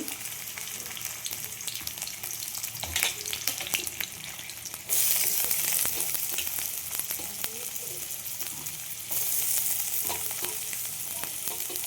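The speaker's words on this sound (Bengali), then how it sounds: "এই তেলের মধ্যে আমি দিয়ে দেবো তোমার পেঁয়াজ, রসুন" Onion and garlic frying in hot oil: a steady, dense sizzle that jumps louder partway through as more goes into the pan, with occasional stirring clicks, close and continuous without speech.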